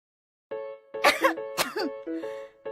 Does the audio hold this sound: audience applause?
no